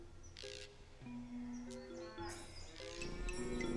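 Cows in a farm barn low and moo in several drawn-out calls at moderate distance, with faint bird chirps and background noise around them.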